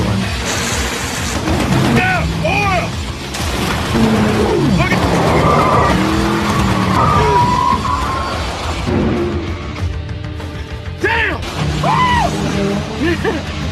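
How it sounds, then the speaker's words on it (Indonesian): A car skids on oil with drawn-out tire squeals over engine noise, mixed with music and a narrating voice, followed by more brief screeches. "mobil mesin gun Joe harus terhenti karena tergelincir"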